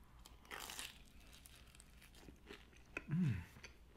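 Crunchy bites and chewing of a Detroit-style square pan pizza with a fried-tasting crust, a crinkly crunch early on and another louder bite near the end, close and fairly quiet, with no talking.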